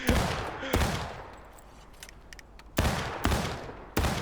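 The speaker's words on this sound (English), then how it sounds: "Bonky and Erling, start shooting" Musket volleys in the Civil War game War of Rights during a regiment drill: loud, ragged staggered shots with bursts near the start and several more toward the end, each tailing off into echoing decay.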